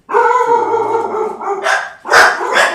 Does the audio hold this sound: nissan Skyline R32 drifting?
no